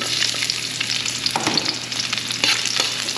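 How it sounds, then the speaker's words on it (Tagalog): Continuous frying in olive oil in an outdoor wok, a close, steady sizzle with scraping stirs cutting through it every second or so. "Tapos yung ating mantika is olive oil. Gisa na po natin."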